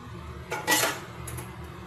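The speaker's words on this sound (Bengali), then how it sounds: "এবার তুলে নেবো আর গ্রেভি এরকম ঠিক থাকবে তার পাত্রে আমি ঢেলে নেব" Fish roe curry being scooped from a cooking pot into a serving bowl, with a few close metallic clinks and scrapes of a utensil against the vessel.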